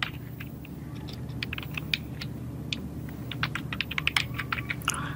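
Text is typed on a computer keyboard in Photoshop, producing rapid, uneven clusters of crisp key clicks that grow busier toward the end over a low background hum.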